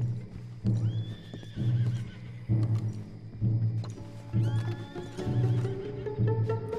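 Several horses in the Red Dead Redemption 2 video game whinny and neigh repeatedly, with hoof clip-clops and a steady low rumble beneath, loud and close throughout.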